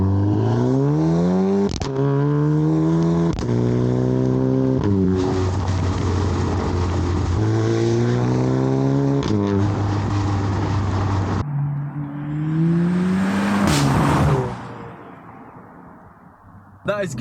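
An Audi TT with a modified loud exhaust revs in held, stepped bursts, its deep droning note rising and falling before a sharper, raspier blip.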